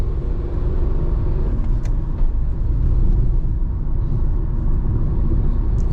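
A 2026 Tata Punch CNG AMT accelerating to overtake on the road, pulling up to about 70 km/h near 2000 rpm, heard from inside as a steady, loud engine and road rumble with no talking.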